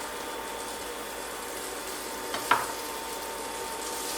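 Chopped onion frying in a pan with browning rice, a steady soft sizzle close by with a brief stirring scrape midway.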